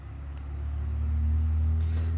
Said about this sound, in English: Sorry about the noisy car going by.